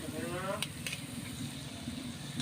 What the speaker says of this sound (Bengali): ভালো করে আমি ভেজে নেব উল্টে পাল্টে লাল লাল করে